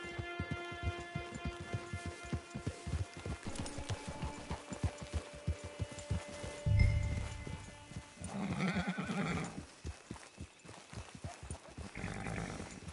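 Horse hooves clip-clop in a steady rhythm in a PS4 video game, with a brief whinny and snort midway. Quieter ambient game sounds accompany the hoofbeats.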